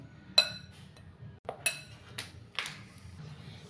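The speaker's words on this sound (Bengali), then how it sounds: "তো আমুল দুধটা দিয়ে ভালো করে এটাকে মিশিয়ে নিচ্ছি।" A spoon stirring Amul milk powder into a Marie biscuit mixture for a no-cook sweet, giving a few sparse, faint clinks and taps against the bowl over a quiet background.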